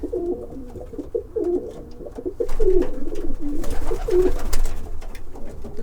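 Racing pigeons coo in repeated low, throaty rolls, several birds close by with overlapping calls and some rustling, and no talk.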